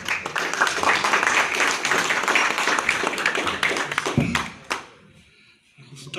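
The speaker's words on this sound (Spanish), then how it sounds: "Fuertes palmas" An audience at a Peruvian cultural forum and symposium claps loudly and densely for about four seconds, then the applause stops abruptly, leaving a brief near-quiet with a few small knocks and shuffles.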